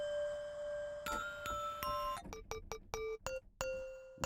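A synthesized bell patch built in the Guru Sampler plugin plays a run of struck bell notes. Each note has a sharp attack and a ringing decay, and the notes come quickly one after another, clear and alone.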